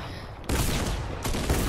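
Gunfire in the Fortnite video game, a quick rapid burst of shots starting abruptly and continuing in a dense rattle, with a second louder burst near the end.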